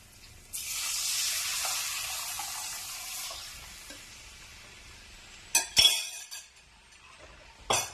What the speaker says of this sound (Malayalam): ഈ തേങ്ങ തൈരിന്റെ കൂട്ട് ഇതിനകത്ത് ഒഴിക്കണം